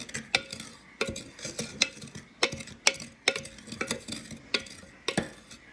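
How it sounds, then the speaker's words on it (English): A spoon stirs a raw milk yogurt mixture in a container, making repeated sharp clinks and scrapes at an irregular, roughly once-per-second rhythm, close and fairly quiet. "Okay, and let's stir that all together."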